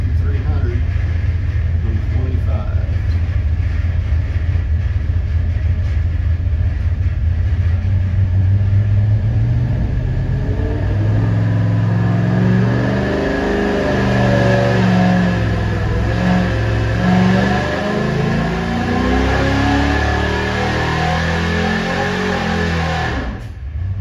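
A car with a 350 engine, fitted with a 1-inch open spacer, roars through a full dyno pull, the loud engine note climbing steadily in pitch as it revs up, then easing off near the end.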